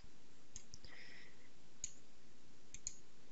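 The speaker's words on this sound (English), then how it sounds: "We'll click the add button and then click close." Mouse clicks in structural design software, a few faint isolated clicks spaced apart over a quiet hum.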